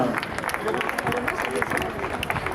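Outdoor crowd applause and clapping greet the women's podium at a 10 km road race, a dense patter of hands over background chatter and voices.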